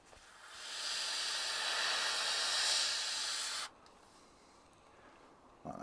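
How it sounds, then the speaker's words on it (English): An airbrush sprays rubber black paint onto a 3D printed Doctor Doom half mask: a steady, close airy hiss lasting about three seconds that stops abruptly, leaving quiet room tone. "So I'll just put that on with the airbrush."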